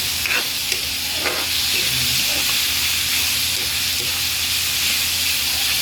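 Chicken pieces sizzle and hiss steadily in a hot pan as the first stage of cooking pancit, a constant loud fry with a few faint stirring clicks and no talking.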